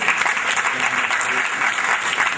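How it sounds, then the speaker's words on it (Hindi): Audience applause at an annual function honoring guests, a loud, dense and continuous clapping sound filling the hall throughout. "एक बार जोरदार ताली हो जाए"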